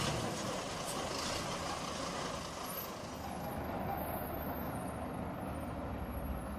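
A tanker truck carrying liquids or gases rumbles steadily at close range, its heavy diesel engine droning continuously with a faint hiss of air brakes partway through, with no voices present.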